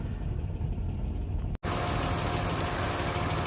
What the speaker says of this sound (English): Starts nicely, settles down to a nice idle.